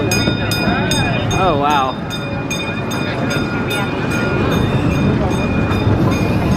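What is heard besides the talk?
safari train ride at Cincinnati Zoo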